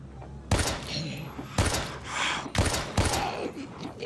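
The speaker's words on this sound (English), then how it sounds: "whenever the gunshot goes off, there's a loud echo in the area in the neighborhood" Gunshots in the survival horror game Daymare 1998, three loud blasts roughly a second apart, each trailing off in a long booming echo through an outdoor neighborhood area.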